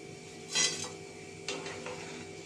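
Fried boondi being lifted from the pan onto a plate, with a couple of soft metallic scrapes and clinks of a slotted spoon against the pan and plate, light and close, with no talking.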